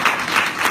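A festival audience in Mulhouse claps steadily in a dense wash of applause, fairly loud and close, heard in a brief burst.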